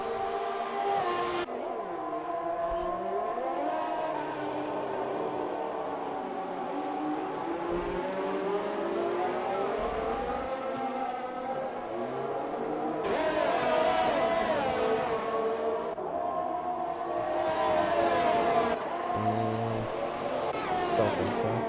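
Formula 1 cars race in a video game at the German Grand Prix, with several cars battling closely. Their high-pitched engines whine and rise and fall continuously as the cars accelerate and pass.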